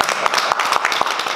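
An audience at a Mother's Day variety show applauds with a dense, steady patter of many hands clapping close by throughout.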